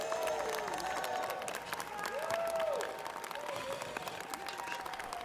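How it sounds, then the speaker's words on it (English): A standing audience at a Los Angeles city council meeting applauds continuously, a faint, roomy wash of many hands clapping with crowd voices and cheers mixed in. "Let's give them a big round of applause."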